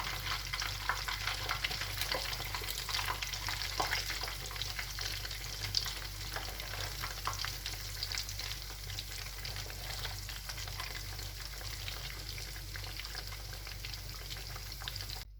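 Breaded calf testicles fry in a pan, giving a steady, dense sizzle that crackles on without pause throughout, close and even in level with no voices.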